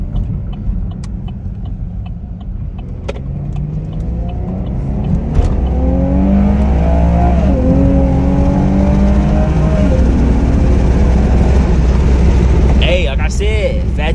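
A stock Chevrolet Camaro 1LT with a V6 engine accelerates hard on a back road, heard from inside with the window down. The engine drone rises steadily and grows louder as it pulls, and a voice talks over it.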